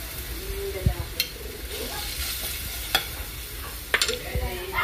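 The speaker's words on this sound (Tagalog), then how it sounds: "Magigisa na po tayo para sa ating pork caldereta. Lagyan natin ng bawang." Garlic sautés in a pan for pork caldereta, a close continuous sizzle broken by sharp scraping and stirring clicks of a utensil against the pan at irregular moments.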